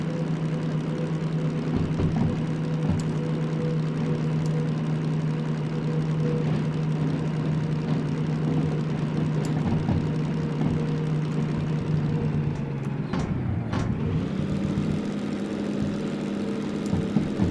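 A locomotive engine in the video game Derail Valley runs at high revs on a steep climb, a loud, steady, low droning roar that shifts pitch briefly near the end.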